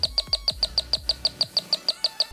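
An electronic bird-call gadget chirps through a small loudspeaker with a steady train of about fifteen sharp, evenly spaced tweets, clear and fairly close with no talking.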